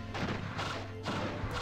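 A cannon structure being destroyed in a Seven Years War strategy game, heard as a few dull crashing thuds in quick succession, moderately loud over steady game background noise.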